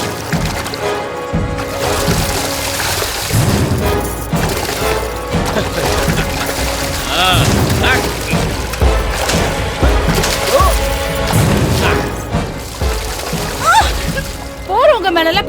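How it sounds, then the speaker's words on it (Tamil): Water is poured and splashed onto passersby during a Holi festival street scene, with splashing and splattering mixed into a busy soundtrack under almost constant loud voices. "போறவங்க மேல இப்படி தண்ணி ஊத்துறியே"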